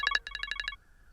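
A telephone rings for an incoming call: a quick series of about eight close, bright electronic ringtone chirps lasting under a second, then quiet.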